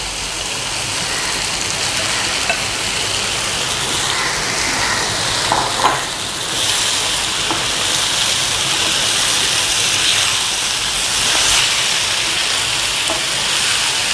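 Chicken pieces with lemon juice sizzle loudly in a pan for Andhra chicken curry, a steady, close, dense crackling hiss that runs throughout with small bursts of stirring around the middle. No speech.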